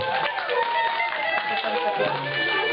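Audience clapping for a team captain at a tourist quest event, a brisk crowd applause heard close and continuous, with voices mixed in.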